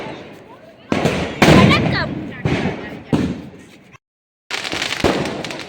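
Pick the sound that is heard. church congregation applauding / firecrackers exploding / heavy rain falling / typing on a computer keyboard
firecrackers exploding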